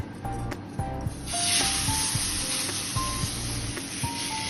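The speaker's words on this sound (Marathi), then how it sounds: "तवा आपला गरम झालेला आहे, त्याच्यावर थोडं एक तूप लावूया आणि मग थालीपीठ तव्यावर" A thalipeeth hits a hot griddle greased with ghee and breaks into a loud, steady hissing sizzle that swells after the first second and carries on, with faint light clinks underneath.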